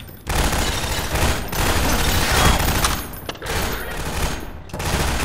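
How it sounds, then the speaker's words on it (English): Sustained automatic gunfire fills a Riot Act video game battle as a dense, loud, continuous fusillade with a few brief gaps. There is no talk over it. "Where are they shooting from?"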